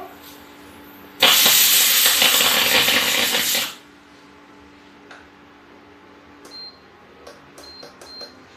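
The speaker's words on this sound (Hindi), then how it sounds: "उसमें थोड़ा पानी ज़्यादा हो गया, इसलिए प्रेशर कुकर से बाहर निकल रहा" Loud steady hiss of steam escaping from a pressure cooker of porridge (dalia) with too much water for a few seconds, then quieter kitchen clinks and faint ticks afterward.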